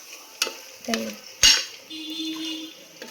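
Masala of onion and yogurt fries in oil for chicken biryani, a faint sizzle broken by a few short spoon scrapes and pan knocks, one sharper clatter in the middle.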